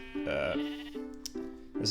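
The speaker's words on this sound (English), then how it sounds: "it spawns Jeb sheep" Sheep spawned in Minecraft bleat in a few loud, close, wavering cries, one long bleat followed by shorter ones, with no talk over them.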